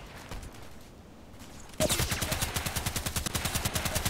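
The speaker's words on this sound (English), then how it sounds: "What is he shooting? Don't shoot." Another player's gun firing in a multiplayer shooter game: after a quieter stretch, a sustained rapid burst of automatic shots keeps a steady, even rhythm, loud and close.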